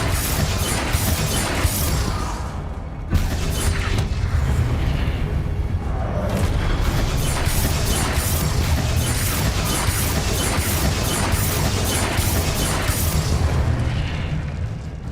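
Confringo blasting-spell explosions in Hogwarts Legacy, a dense continuous barrage of loud booms and crashing debris, with a sharp burst near the start and no talk.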